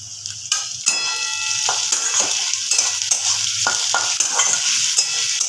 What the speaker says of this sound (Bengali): আমি একটা দারচিনি দুটো লবঙ্গ দুটো ছোট এলাচ এর মধ্যে দিয়ে দিলাম